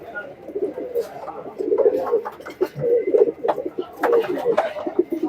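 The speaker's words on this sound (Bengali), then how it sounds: "এক জোড়া গোল্ডেন কবুতর" A pair of golden pigeons coo close by in a repeated run of soft, throaty, rolling calls with short pauses between phrases.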